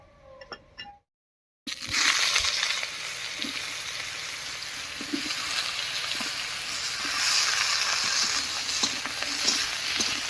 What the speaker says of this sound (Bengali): এবারে মাছ ভাজার এই তেলের মধ্যে বেগুনটাও হালকা করে ভেজে নেব